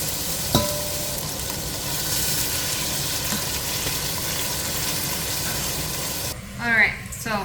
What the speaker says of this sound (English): I'm going to add my chicken, let it cook a little bit